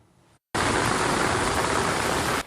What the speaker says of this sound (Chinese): 大雨直直摔